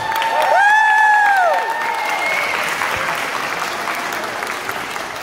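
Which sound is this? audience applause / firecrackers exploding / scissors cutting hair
audience applause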